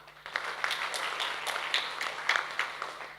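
Audience applause at an international global health symposium, a steady spread of many hands clapping across the hall, moderately loud, continuous with small peaks, no talk over it.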